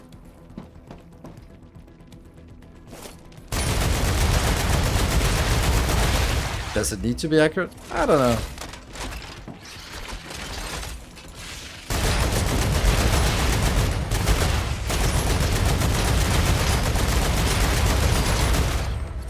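Weapon gunfire in the StarRupture sci-fi exploration game, loud bursts of rapid automatic fire in sustained volleys with brief pauses, while a player talks over the action.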